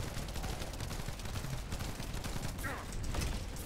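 Steady rapid gunfire blasting at a boss in The First Descendant, continuous and loud with dense overlapping shots throughout, a voice faintly present beneath the shooting.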